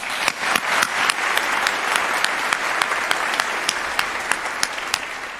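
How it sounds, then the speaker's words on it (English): A conference audience at an undergraduate research event applauds steadily, a dense wash of clapping with a few sharper individual claps standing out, sustained throughout at moderate volume. "Can we give them a quick round of applause?"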